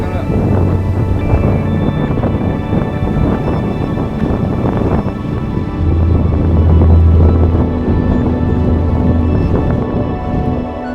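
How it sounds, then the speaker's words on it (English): Wind buffets loudly against the microphone with a hissing wash of rain outdoors on the West Highland Way in Scotland, and a voice speaks at moments beneath the gusts. "It's a very wet and windy start."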